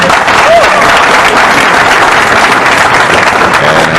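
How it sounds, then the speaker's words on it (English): Crowd at the 2007 World 9-ball Pool Championship applauding a break shot, dense sustained clapping throughout, loud and close, with faint murmurs beneath. "And the crowd clapping their approval."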